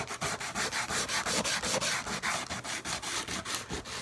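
Sandpaper of 120 grit rubbed back and forth along model railway track rails, a quick regular scratching rhythm of about four strokes per second, close and clear with no talking.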